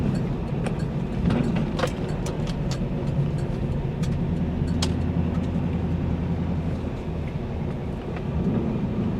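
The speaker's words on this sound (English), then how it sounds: "Let's do a first gear launch after we get around this corner." A 2000 Pontiac Trans Am WS6 drives along with a steady low engine drone and road rumble heard from inside the cabin, with a few small clicks and rattles and no talking.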